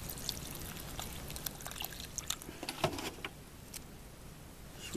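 Cool water poured into a bowl of freshly picked stinging nettles for a second rinse, a steady close trickle and splash running the whole time with no talking.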